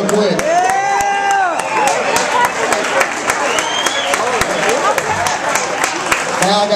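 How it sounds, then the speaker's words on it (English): A crowd at a country-music jam in a saloon applauds the musicians. Sharp, distinct claps ring out over cheering, whoops and lively chatter from the room. "Y'all give all these musicians a round of applause real quick."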